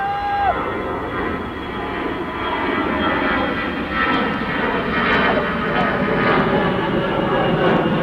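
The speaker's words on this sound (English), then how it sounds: "It's a commercial plane." A commercial airplane passing over a legion baseball game, its steady broad engine roar filling the whole stretch at moderate loudness, with faint ballpark crowd sounds and a commentator's voice underneath.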